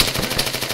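Rapid automatic gunfire rattles in the military shooter game ArmA 3, a loud, steady burst of closely spaced shots with no pauses.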